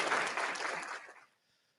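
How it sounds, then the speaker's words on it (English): A short canned round of applause plays as a sound effect, a brief burst of clapping that fades away after about a second. "A weak round of applause. Let me get that up."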